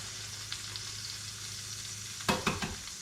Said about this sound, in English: we want to cook up an egg, our mushrooms, and our scallions